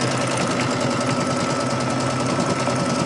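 An embroidery machine stitches a design onto a t-shirt, giving a steady, dense mechanical whir with fast needle rhythm, close and continuous with no voices.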